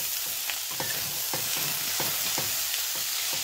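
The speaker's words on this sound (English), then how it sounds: "We keep stirring. This is called a stir fry for a reason." Pepper, tomato and bean sprouts are stir-fried in a pan, a loud, constant hissing sizzle with rhythmic stirring scrapes about every half second.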